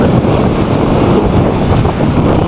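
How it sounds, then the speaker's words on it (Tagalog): A swollen river rushes loudly outdoors in a steady, roaring wash, with gusts of wind buffeting the microphone throughout. "Narito kami sa ilog."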